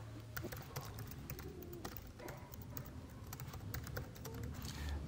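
Fingers type an article on a computer keyboard, rapid irregular key clicks in bursts over a steady room hum, close and moderately quiet, no speech.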